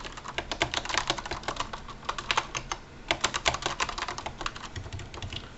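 Fast bursts of typing on an Azio Levetron Mech4 mechanical keyboard, crisp clacky keystrokes in quick irregular runs with brief pauses, close and clear with no talking.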